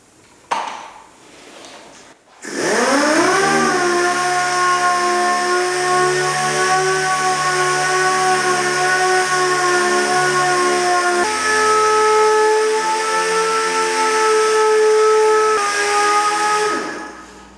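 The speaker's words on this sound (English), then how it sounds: "hook up the DA sander, put the 3000 on" A dual-action sander with 3000-grit paper works the hood of a 1969 Mustang Mach 1, spinning up into a loud, steady whine that dips in pitch partway through as pressure changes, then winds down near the end.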